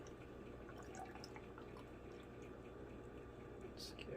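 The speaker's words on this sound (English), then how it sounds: "we're just going to pour in some of this apple juice" Apple juice poured into a BlendJet 2 portable blender jar holding mango and strawberry, a continuous close liquid trickle with small drips and splashes throughout.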